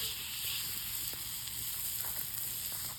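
A steak sizzles and hisses over hot grill coals outdoors, a steady crackling fry close to the microphone with small pops and no talking.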